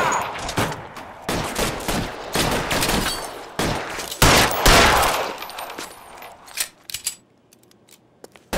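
Gunfire rattles in a shootout in the video game L.A. Noire. Loud bursts and single shots crack in irregular volleys, then thin out into a few scattered pops.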